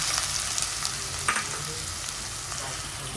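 Onion sautéing in a hot pan for homemade chicken momos, a steady close sizzle with occasional stirring scrapes, no talking.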